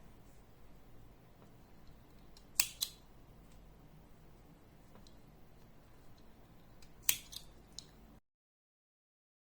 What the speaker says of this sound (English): now I can cut it